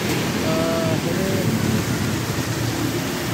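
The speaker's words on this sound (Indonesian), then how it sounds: "udah hujan." Rain pours down outside a quiet shop in a steady, dense hiss that fills the scene at a constant loud level throughout.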